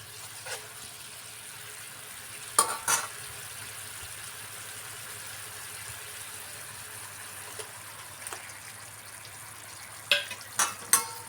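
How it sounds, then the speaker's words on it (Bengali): Fried fish going into a thick curry simmering in a pan, with a steady soft bubbling and sizzle throughout and a few sharp clinks and knocks scattered through it. "এখন মাছগুলা দিয়ে দিব।"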